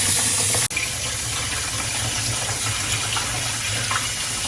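Scallops are rinsed under a running kitchen tap, a steady close gush of water that keeps on without a break, with a brief dip near the start.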